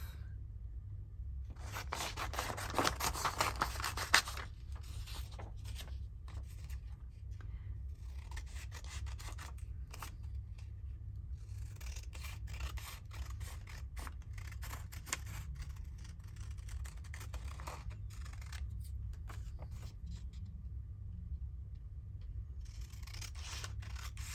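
Scissors cutting paper ephemera during a craft session, repeated quiet rasping snips in bursts over a low background hum, close and faint with no talk.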